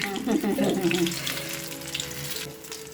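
Gundu bajji, brinjal and gram-flour fritters, sizzle in hot oil over a low flame: a close, steady crackling hiss with a brief voice near the start.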